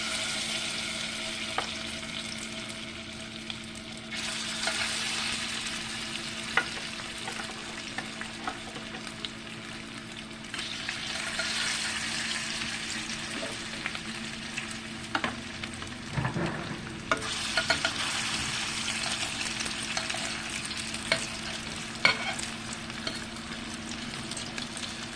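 Salmon croquettes, four at a time, fry in a skillet with a steady oily sizzle that swells and settles in long waves, plus occasional small pops and crackles.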